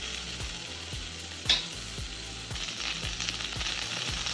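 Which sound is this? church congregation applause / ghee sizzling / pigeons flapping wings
ghee sizzling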